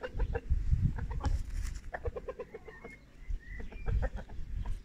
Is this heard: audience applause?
no